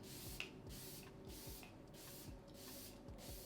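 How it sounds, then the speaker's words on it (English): Believe makeup setting spray misted onto a face: a quick series of about seven or eight soft, airy spritzes, quiet and close, with no talking. "I'm gonna spray my face using the Believe makeup spray."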